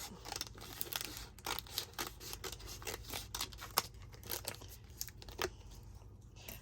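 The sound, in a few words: scissors cutting fabric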